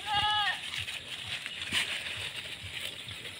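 Goats at a farm feeder, one loud close bleat at the start over steady outdoor background noise, with fainter shuffling and a voice speaking afterward.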